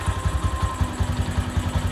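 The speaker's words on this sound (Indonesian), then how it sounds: "Kita nyalakan dulu dari motornya." Honda Megapro motorcycle engine idling, a steady close, loud low thumping putter with a fast even beat and light mechanical clatter, no voices.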